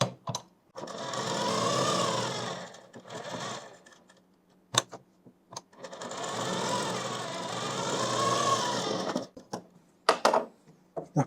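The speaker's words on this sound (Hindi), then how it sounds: "ये सिलाई चला दी।" A sewing machine stitches a kurti in two long continuous runs of close, steady whirring, broken by short pauses and a few sharp clicks and handling knocks at the end.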